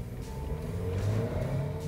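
A small 1.2-litre car pulls away from a standing start, its engine revving up steadily and close by for a couple of seconds, with no talking.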